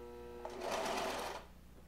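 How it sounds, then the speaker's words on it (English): A sewing machine stitches a fabric rabbit in one short, close burst of fast needle clatter lasting about a second, between quieter moments of room hum. "right now I need to sew a rabbit"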